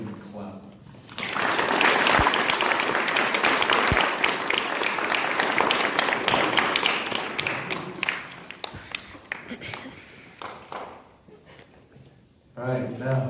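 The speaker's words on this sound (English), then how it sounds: "Let's all give him a clap." Audience applause at an Eagle Scout Court of Honor, a full room clapping steadily for several seconds before it tapers into scattered claps and a few voices, with a couple of sharp thumps early on.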